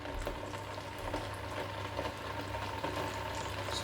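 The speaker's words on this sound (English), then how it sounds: "There's oil in the bottom of the pan. As you can hear, it start warming up." Cooking oil in the bottom of a pan warming for potato wedges gives a faint, steady sizzle and light bubbling crackle, continuous and close.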